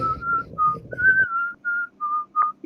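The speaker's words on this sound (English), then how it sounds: "And whistling, dancing in the moonlight as I do it." A person whistles a lilting tune at a tabletop role-playing session, a string of clear sustained notes with short gaps between them, loud and close, with faint background chatter fading out early.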